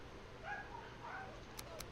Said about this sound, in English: Oh, doggos be barking.